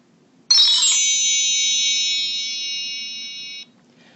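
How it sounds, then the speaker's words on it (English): A read-along story's page-turn signal chime: a single bright electronic tone that rings steadily for about three seconds, then stops, heard alone over a faint low hum. "There will be a special noise when it is time to turn the page."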